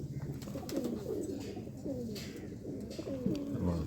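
An agitated Sialkoti pigeon coos repeatedly in rolling, throaty phrases close by, each call bending in pitch, over a constant low background hum.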